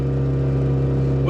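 Citroen 2CV engine held at full throttle in second gear at about 40 km/h while climbing a hill, a steady, loud droning hum throughout with no clear pauses.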